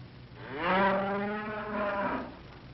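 An ox lets out a single drawn-out moo in a 1944 Disney cartoon, rising and then sagging in pitch over about a second and a half, clear and fairly close against a faint background.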